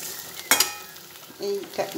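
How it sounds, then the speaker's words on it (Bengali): Chopped potatoes frying in a pan, with a soft steady sizzle and a couple of sharp stirring scrapes near the start and again toward the end. "আর এখানে হচ্ছে কুচো আলু ভাজা"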